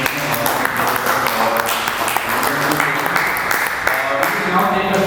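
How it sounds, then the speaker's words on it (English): Applause from an audience at the close of a photojournalism ethics panel session, sustained dense clapping from a crowd throughout, with some voices and room tones mixed underneath. "So big round of applause for"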